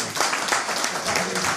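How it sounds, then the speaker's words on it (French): A crowd at an FPI dinner-debate in Bergamo applauds with a sustained wash of hand claps, loud and even throughout the short stretch. "Je voudrais qu'on l'applaudisse encore."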